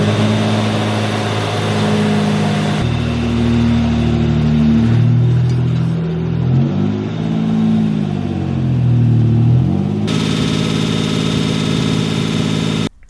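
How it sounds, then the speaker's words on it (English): A Mitsubishi Pajero engine with an exhaust leak runs at a high idle, a loud, close, steady drone that rises and falls in pitch partway through, with no talk. "She's had an exhaust leak ever since I got her and a strangely high idle."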